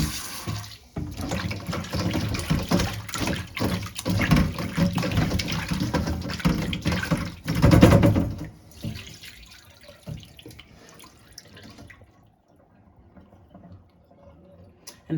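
Tap water runs steadily into a kitchen sink during home cooking of Jamaican brown stew chicken, a close, splashing flow for about eight seconds that then tapers off to near quiet.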